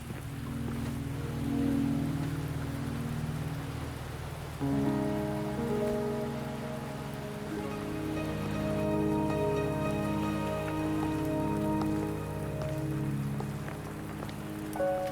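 Rain patters steadily in Wuthering Waves, a constant soft wash of falling drops that runs the whole way under a sustained, swelling musical score.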